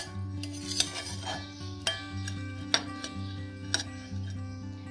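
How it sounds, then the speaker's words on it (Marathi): A spoon stirs hurda mixed with two chutneys and sev in a bowl, making soft scraping with a few distinct metallic clinks against the dish over a steady background hum, close by and without talk. "मस्तपैकी 2 प्रकारच्या चटण्या आणि शेव घालून घेतलेली आहे मी. आणि आता हे पण छान असं मिक्स करूया."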